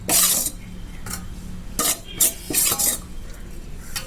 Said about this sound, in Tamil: போட்டு எல்லாத்தையும் நல்லா ஒன்றா கலந்து விட்ருங்க.